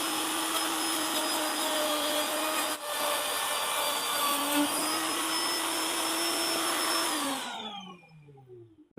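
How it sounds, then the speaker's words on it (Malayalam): Wood router fitted with a 3/4 inch bit cutting into a wooden frame for a bee box, a loud steady high-pitched whine that dips briefly near three seconds and winds down at the end. "അപ്പോൾ അതിന് നമ്മൾ 3/4 ഇഞ്ച് ഇതിൻ്റെ റൂട്ടറിൻ്റെ ബിറ്റ് നമ്മൾ മാറ്റി 3/4 ഇഞ്ച് ബിറ്റ് ഇട്ടിട്ടുണ്ട്."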